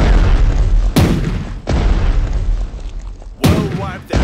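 Ship gunfire in the World War II strategy game Strategic Mind: Blitzkrieg booms out in three heavy, loud blasts, each followed by a rumbling decay over continuous low battle noise.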